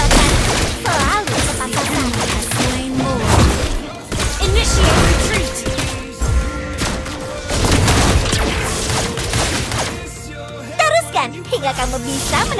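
Dense, loud video game gunfire with rapid shots and crashing impacts, mixed with voices and effects, briefly easing near the end.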